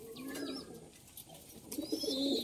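Pigeons coo repeatedly at close range in a loft, with soft throaty calls in overlapping bursts alongside faint chirps and light background noise.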